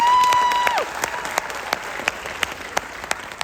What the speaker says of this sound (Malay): Bagi anda sendiri satu tepukan yang kuat.